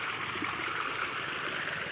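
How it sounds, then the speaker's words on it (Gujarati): Irrigation water runs steadily into a brinjal field, a continuous close trickling and gurgling flow with no pauses. "આપણે જો પાણી ચાલુ કરી દીધું છે રીંગણીમાં"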